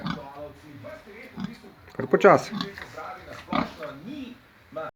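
A pig lying in front of its bowl grunts and snuffles repeatedly up close while eating, with a person speaking briefly alongside in Slovenian.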